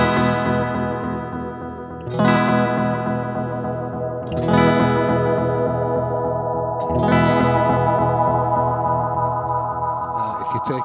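Strummed electric guitar chords through a delay effect with chorus on the repeats ring out three times, each trailed by shimmering, wavering repeats that sustain and overlap into a thick echoing wash.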